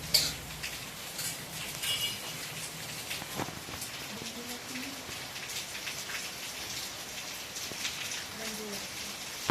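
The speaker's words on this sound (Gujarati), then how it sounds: "ભગવાનની દયા છે તો વરસાદ પણ ચાલુ થઈ ગયો છે" Rain patters steadily on a surface throughout, with scattered louder drops and faint background voices underneath.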